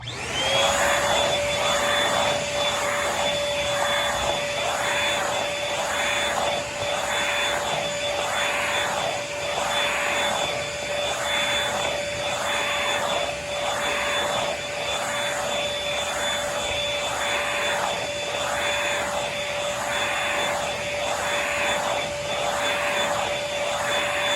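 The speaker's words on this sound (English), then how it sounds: "Next vacuum. Next up is my Dirt Devil Simply Stick." A Dirt Devil Simply Stick vacuum cleaner runs continuously with a loud, steady motor whine and a high-pitched tone, close up and unbroken.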